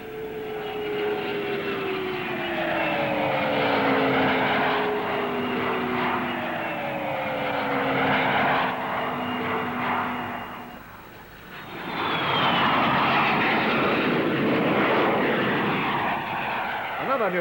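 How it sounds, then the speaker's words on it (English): A Trident jet airliner with three Spey bypass engines grouped at the rear passes overhead at an air show, a loud steady engine roar with descending whining tones that dips briefly, then swells again. "Now a new look in civil transport aircraft, the Trident. With 3 Spey bypass jet engines grouped at the rear"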